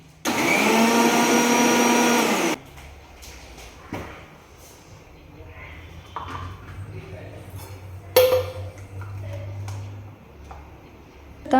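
A kitchen mixer grinder runs loudly for about two seconds, blending tomatoes into a paste, then stops; quieter clatter, knocks and a low hum follow, with a voice speaking faintly at times.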